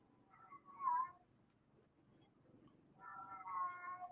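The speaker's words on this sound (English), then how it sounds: "Yeah, you hear a meowing cat." A cat meows twice, separated by a pause, with the second call longer and drawn out. Both sound quiet and plaintive against a hushed room.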